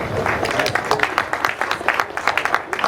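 Guests at an investiture ceremony clap hard and fast. Sharp, close claps come in quick uneven bursts with a few voices mixed in.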